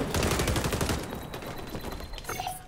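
Shotgun fire in the XDefiant shooter game, a dense burst of rapid blasts and gunfire in the first second, then quieter combat noise and a brief electronic tone.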